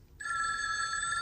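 A telephone bell starts ringing abruptly after a brief hush and holds one continuous, bright electronic trill, loud and near, with nobody speaking.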